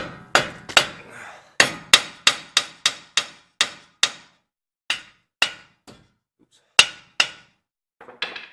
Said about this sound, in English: So let me give it the old tappy treatment here.